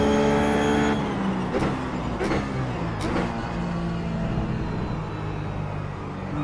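Ruf GT3 race car engine in the iRacing simulator, loud and close, pitch dropping with a few sharp gear-shift blips before the engine climbs again under acceleration.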